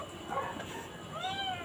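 A small, newly adopted cat in a boarding house gives two short high meows, close and fairly quiet, the second rising and falling over faint room noise.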